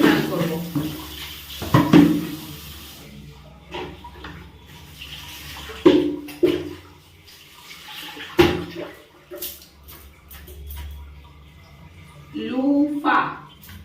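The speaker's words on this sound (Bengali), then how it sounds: "এবার আজকে আবার দুবার কি জল আমি ভরে রেখে যাবো" Tap water runs into a container in a home, splashing and gurgling in uneven bursts, with a few knocks and household clatter and a person talking now and then.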